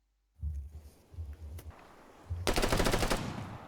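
Automatic gunfire from a weapon in the military shooter game Arma 3, a dense rapid burst of loud shots near the end after a quieter stretch of low rumble and a few isolated clicks.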